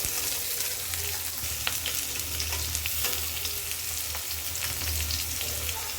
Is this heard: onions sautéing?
yes